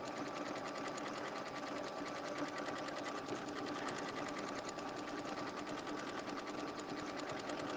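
Sewing machine stitching a circle stitch on appliqué, a fast, even, continuous whir and rattle heard close up with no talking.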